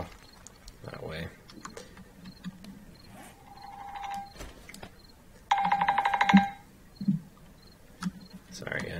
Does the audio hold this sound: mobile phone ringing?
yes